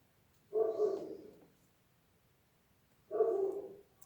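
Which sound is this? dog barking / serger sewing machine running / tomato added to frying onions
dog barking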